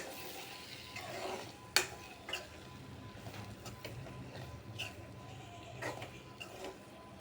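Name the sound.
stirring eggs into masala in a pan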